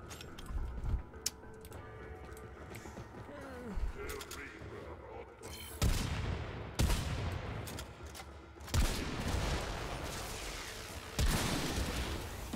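Heavy cannon blasts in a chaotic shooter video game, several loud booming broadband bursts spaced a second or two apart over a busy bed of game noise and scattered gunfire, with a voice talking in between.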